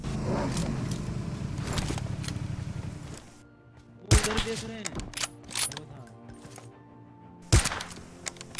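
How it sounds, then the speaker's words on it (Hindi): An AWM sniper rifle fires in a video game: two sharp, loud gunshot cracks about three seconds apart, each trailing off quickly over mechanical game ambience. "देखो भैया AWM है अपने पास महंगी वाली, तो सस्ते हेडशॉट मारने की ट्राई करते हैं"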